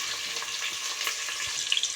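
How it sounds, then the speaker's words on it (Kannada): Sliced round onion with cumin seeds frying in hot oil, a steady close sizzle with faint crackles, no voices. "ಈಗ ಇವನ್ನೆಲ್ಲ ಕರೆಕ್ಟಾಗಿ ಈಗ ಆಯಿಲ್ ಒಳಗಡೆ ಫ್ರೈ ಮಾಡ್ಕೊಳ್ಳೋಣಂತೆ."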